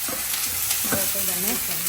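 Bajra flatbread sizzling on a hot griddle, a close, constant sizzle with small crackles and scraping touches throughout.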